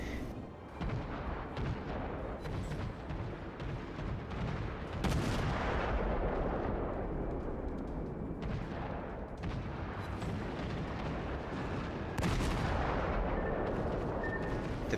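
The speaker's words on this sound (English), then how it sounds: "the Wickes opens fire on an enemy destroyer, resetting the cap in the process" Naval guns on the destroyer Wickes boom in heavy, repeated salvos during a World of Warships sea battle, loud and continuous with sharp blasts and rumbling decay.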